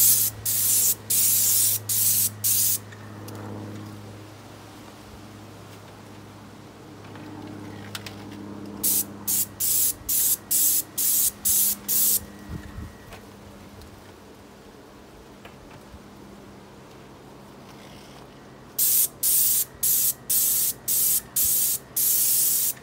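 A paint sprayer coating a house soffit, heard as bursts of sharp hissing spray in quick regular pulses, separated by longer quieter stretches of low background hum.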